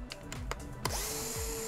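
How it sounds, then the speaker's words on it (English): A Phillips screwdriver backs screws out of a Samsung S22 phone with a brief whirring whine and small clicks, close-up and quiet. "So now you'll see these four screws here. Take our screwdriver again, Phillips,"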